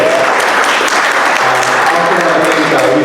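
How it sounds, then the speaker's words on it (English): Audience applause at a district community meeting fills the room, dense steady clapping from a crowd, loud and close for the full few seconds. "Well, big round of applause."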